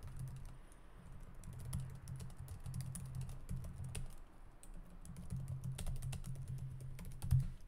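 Steady typing on a computer keyboard, with quick irregular key clicks in bursts and a few short pauses, close and moderately quiet against a low background hum.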